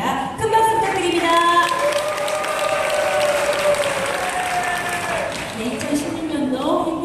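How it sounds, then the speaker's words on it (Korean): Church congregation clapping warmly at a mission report, a steady wash of applause with a voice speaking and faint tones running over it. "큰 박수 부탁드립니다"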